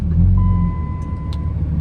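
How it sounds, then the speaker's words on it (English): A truck engine idles close by in a low steady rumble, with a thin beeping tone running through the middle and a few brief clicks, without voices. "now the truck's running at least"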